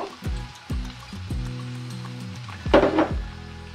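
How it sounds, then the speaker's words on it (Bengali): Mixed seasonal winter vegetables fry with onion, turmeric and salt in a little oil, sizzling steadily while a spoon stirs them, with a few sharp scraping knocks against the pan and a louder burst of stirring near the end. "খুব সুন্দর করে নেড়ে মিলিয়ে নিলাম।"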